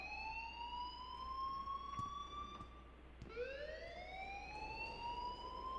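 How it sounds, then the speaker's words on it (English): Alarm sounding in the Life is Strange video game, a loud continuous rising-and-falling siren-like wail with steady harmonics that dips and restarts sharply about midway, heard alone without talk. "please turn off that alarm since that's your job"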